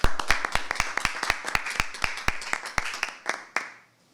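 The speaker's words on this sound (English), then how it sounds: "So let's give Sammy Colonna a round of applause." Sparse, sharp handclaps from a small audience follow a poetry reading, a few close individual claps at a quick irregular rhythm that thin out and stop near the end.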